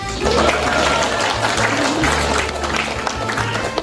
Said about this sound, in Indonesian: persembahkan tepuk tangan